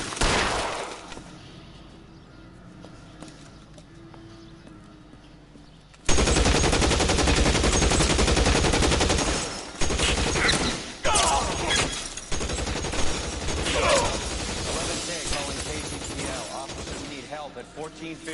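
Dense bursts of gunfire erupt after a quieter stretch, loud and sustained with rapid fusillade-like volleys and cracks continuing to the end, a voice faintly present beneath.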